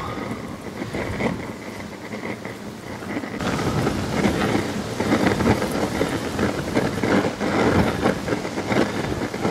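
Heavy storm rain and gusting wind roar continuously around a Wikatech StormFire hobo stove, with a deep rumbling buffeting that swells partway through and stays loud and close.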